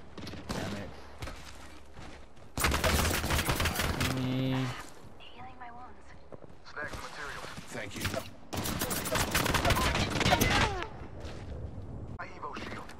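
Bursts of video game gunfire in two heavy volleys, with scattered shots between them, loud and close, alongside a voice speaking over the action.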